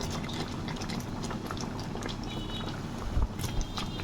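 Palm fruit pulp with grated coconut sizzling and bubbling steadily in a pan, a dense continuous simmer with a couple of brief louder stirring knocks near the end.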